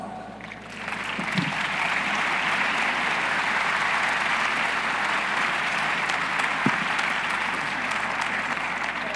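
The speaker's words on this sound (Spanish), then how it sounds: "¿Lo recibimos entonces con un aplauso?" An audience at a 2017 business forum in Mexico on modernizing NAFTA breaks into steady, full applause to welcome a speaker, with thick, even clapping from many people holding for around nine seconds.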